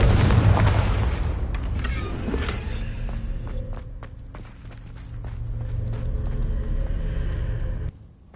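Confringo explosive spell blast in Hogwarts Legacy, a heavy boom at the start that rolls into a long low rumble with scattered crackles, fading, swelling again, then cutting off near the end.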